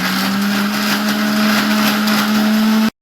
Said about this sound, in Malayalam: നമ്മൾ മിക്സിയിലിട്ട് ഓൺ ചെയ്യണം